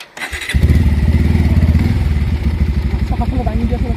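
A motorcycle that had fallen over is started: a thump, then the engine catches and runs near and loud with an even, pulsing idle, while people talk over it.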